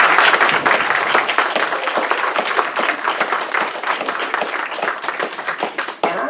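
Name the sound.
audience applause for library faculty and staff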